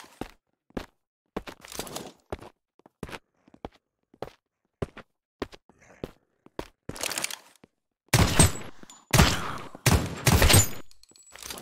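Gunfire in a competitive shooter video game: a run of sharp, separate shots at irregular spacing, then louder dense bursts near the end, with no talk.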